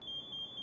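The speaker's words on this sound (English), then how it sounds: "The pass device goes into full alarm to alert those who are close by" An SCBA PASS device on an MSA G1 breathing apparatus sounds a full alarm: a loud, steady high-pitched electronic tone that holds continuously through the short moment.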